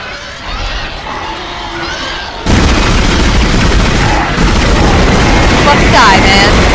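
In the video game Dead Space, a loud explosion erupts partway through and becomes a heavy, sustained roaring blast, with game sound effects and talk around it.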